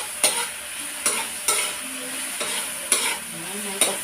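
Tomatoes sauté in a hot pan, a soft sizzle broken by about six sharp spatula scrapes and knocks against the pan at an irregular rhythm, with no talking.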